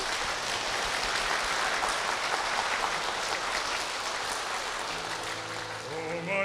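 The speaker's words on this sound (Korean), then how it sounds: "여러분 힘찬 축복의 박수 부탁드립니다" A church congregation applauds in a dense, even wash of clapping during a service, steady and fairly distant, before a sustained tone and the start of singing rise near the end.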